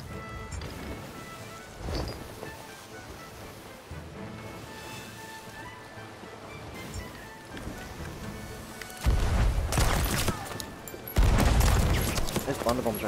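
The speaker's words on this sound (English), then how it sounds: "Those Blunder Bombs are actually helping everybody." Blunder Bomb explosions in Sea of Thieves, several loud crashing bursts landing near the end over sloshing ocean and scattered gunfire, with voices talking throughout.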